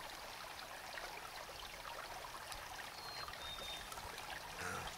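A small amount of drink is poured out onto the ground outdoors during a cold-weather hike, a faint steady trickling splash lasting a few seconds.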